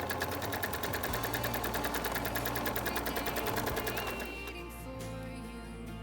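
A sewing machine stitches elastic onto a fabric face mask, running in a fast steady rhythmic whir close by, then slowing to a lower, quieter hum near the end.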